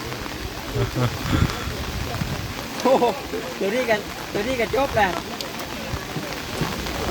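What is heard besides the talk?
rain falling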